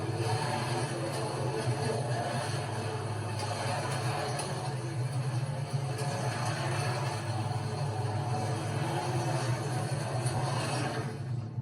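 A slot car running on an analog track, mid-combination digital/analog setup, giving a steady continuous electric motor whir with a low hum throughout, loud and unbroken for the whole stretch.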